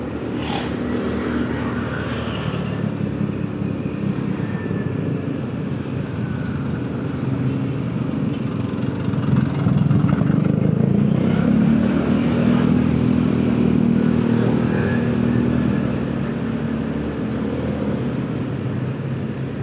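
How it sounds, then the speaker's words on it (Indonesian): Congested road traffic near Pelabuhan Ratu in Sukabumi, with cars and motorcycles: a continuous close engine hum and rumble that swells midway as vehicles pass, with no talking. "Terpantau macet panjang ya teman-teman."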